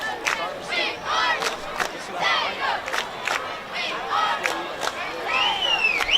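Crowd at a high school football game between the Daingerfield Tigers and Tatum Eagles, shouting and cheering in waves of loud, overlapping voices that rise and fall over several seconds.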